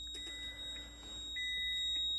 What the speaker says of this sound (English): That beeping is an alarm from the brake system.